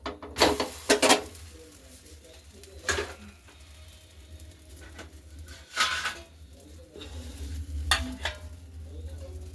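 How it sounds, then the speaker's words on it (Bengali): Paratha frying in ghee, a quiet, close crackle beneath several louder bursts of handling clatter and scraping spread through the clip, without speech. "আমি এটাকে সাদা তেল না দিয়ে একটু ঘি দিয়ে ভাজবো।"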